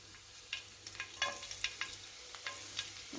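Finely chopped garlic hits white oil in a hot wok (kadai), giving a light continuous sizzle punctuated by scattered spoon stirs and scrapes over about three seconds, fairly quiet with no talking.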